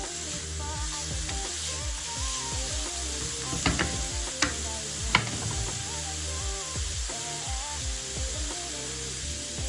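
Onions and shallot sizzling loudly in a pan for a hachis Parmentier, a steady close frying hiss with occasional scraping and stirring knocks, no voices.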